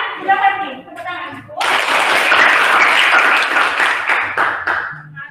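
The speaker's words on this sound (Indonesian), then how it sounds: "Tepuk tangan" Classroom applause as students clap their hands during a school guidance lesson, a dense, loud burst of clapping that starts after brief talk and holds for several seconds before fading.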